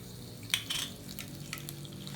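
Dried red chillies drop into hot oil with already-popped mustard seeds, producing a soft, crackling sizzle with a few sharp spits and pops, faint and close.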